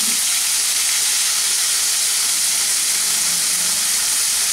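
Onion paste hits hot oil already holding a dried red chilli and whole cumin, letting out a loud, steady, close sizzling hiss that never lets up.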